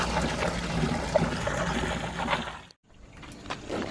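Water rinses down a spillway bowl and basin outdoors in a steady, fairly close broadband wash that runs continuously, breaks off for a moment near the end, then resumes at a lower level.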